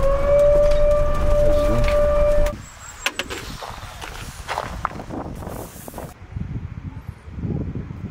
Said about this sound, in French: Pourquoi il y a une sirène?